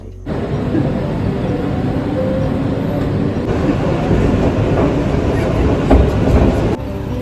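A New York City subway train rumbles and clatters steadily for several seconds, a loud continuous roar with rail clicks throughout and no clear talk over it.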